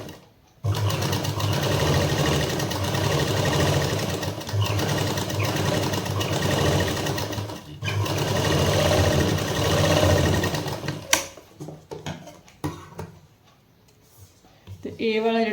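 A sewing machine stitches cloth for a round neckline facing, running in long steady bursts with brief pauses, then stopping near the end with a few clicks and handling noises; a voice speaks faintly in places.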